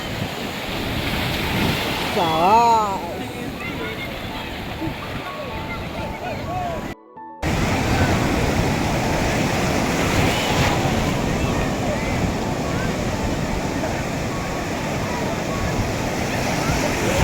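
Sea waves roll onto Puri beach in a loud, continuous wash of surf, with gusty wind buffeting the microphone throughout. A short burst of rising tones sounds early on, and there is a brief cut partway through.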